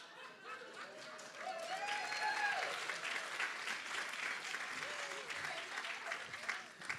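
Sustained applause from an audience at an award show, steady and fairly loud throughout, with a few voices and light laughter mixed in.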